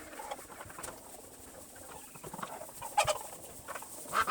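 Chickens and geese in a backyard around raised feeders give soft, scattered clucks and coos at close range, a few sharper calls near the end, with no talking.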